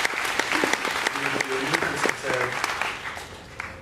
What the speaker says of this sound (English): Round of applause for Ted.